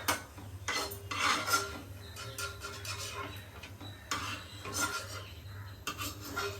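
Metal spoon scrapes and clinks against a pan of frying cashews in irregular bursts, with a faint sizzle underneath.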